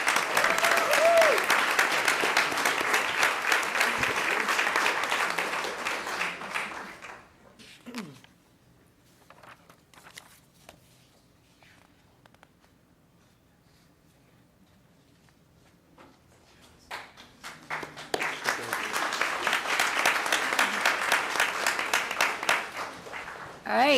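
A school board meeting audience applauds a student Cyber Patriots team, loud clapping for several seconds that fades into a quiet stretch with faint shuffling, then swells again into full applause.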